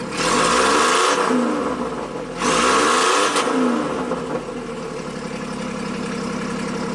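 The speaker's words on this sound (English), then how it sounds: "Rev it up." A 1990 Buick Regal V6 engine with severe low power revs up twice in quick bursts, rising and falling in pitch, then settles back to a steady idle rumble.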